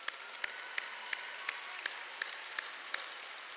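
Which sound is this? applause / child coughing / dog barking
applause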